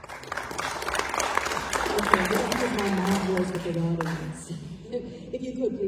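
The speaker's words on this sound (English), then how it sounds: "If you could, please hold your applause" Audience applause at a civic speech on economic development, a sustained wash of clapping from a crowd that fades as a speaker's voice rises over it.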